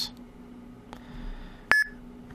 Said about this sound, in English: And you'll hear a little beep sound.